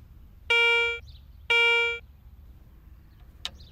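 Garrett ACE 250 metal detector sounding its coin tone: two clear, sustained high-pitched beeps about a second apart, each half a second long and fading slightly, over a quiet background hum.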